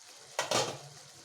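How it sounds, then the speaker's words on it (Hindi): A lid lifted off a kadai of mushrooms in gravy, a brief faint metallic clank and scrape followed by a soft low sizzle, alone. "अब हम लिड को हटा देंगे कढ़ाई पर से।"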